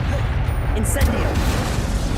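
An Incendio fire spell blast in Hogwarts Legacy lands as a short, heavy booming burst amid ongoing combat noise, dense low rumble throughout.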